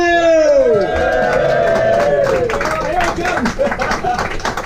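Comedy club crowd welcomes comedian Gareth Neale with a loud whooping cheer up front, then a wash of clapping and chatter filling the room.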